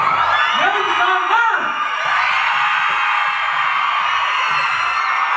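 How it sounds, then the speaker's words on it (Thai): Fans at a Thai fan-meeting event scream and cheer for two performers, a loud continuous crowd roar with shrill whoops, heard alongside a host speaking over a microphone. "ขอเสียงกรี๊ดดังให้กับทั้งสองท่านเลยดีกว่า"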